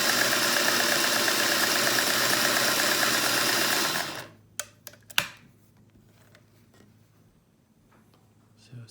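A 1950s Singer 401A sewing machine stitches a wavy line with a fast, steady mechanical whir that stops abruptly partway through, followed by a few light clicks and near quiet.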